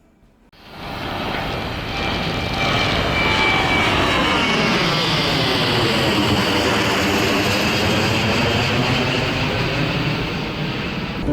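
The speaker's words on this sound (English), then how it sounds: "planes roaring in the dark" A loud airplane roars in quickly at night in Phuket and keeps thundering overhead, its sweeping engine noise filling everything, no voices.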